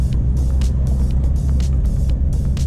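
A Mahindra Thar cruises at speed with a steady low engine and road rumble from inside the cabin, broken by short hissy bursts of wind or tyre noise.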